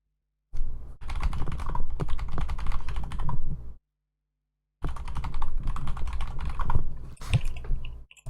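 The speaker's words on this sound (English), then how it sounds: "just typing away here, guys, because I'm just trying to sort everything" Rapid clattering keystrokes on a computer keyboard during a Quake Live tournament broadcast, two dense bursts of typing separated by a few seconds of silence, close and with no voices.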